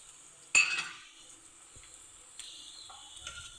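Onions frying slowly over low heat until dark brown, for a degi-style chicken korma, give a soft steady sizzle. A sharp clatter of stirring comes early, followed by a few quieter scrapes and clinks from the pan.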